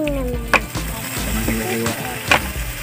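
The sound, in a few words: fish sizzling in pan with garlic and onion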